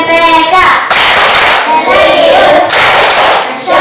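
A school class claps together in quick rhythmic bursts, loud and close, with a short pause between two rounds of clapping.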